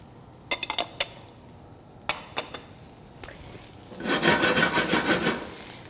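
Shallots and whole peeled garlic cloves are tossed in a pan with chicken fat: a few sharp clicks and scrapes come first, then a rising, rough sizzling stir toward the end, close with no talk.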